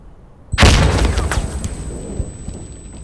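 A frag grenade blows up in Insurgency Sandstorm: silence, then one loud, close blast that rolls off into a long rumbling tail with a faint ringing tone above it.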